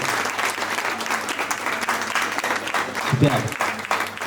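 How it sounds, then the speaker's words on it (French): Student talent show audience applauding steadily, a dense wash of clapping with a brief voice calling out over it. "Bah applaudissez bien fort alors."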